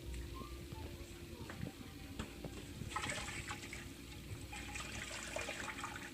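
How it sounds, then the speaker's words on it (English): Hot water is poured out of a kitchen pot after eggs are boiled, a continuous splashing gush into a sink that swells partway through and stays at a moderate level. "let's empty the water now"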